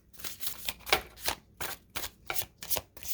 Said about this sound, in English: I do try to finish the shuffle